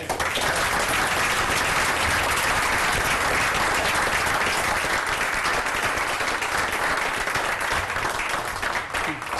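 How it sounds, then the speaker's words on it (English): A council meeting audience gives the rescue squad a loud, steady round of applause that fills the whole stretch without a break. "So we get a round of applause for my squad"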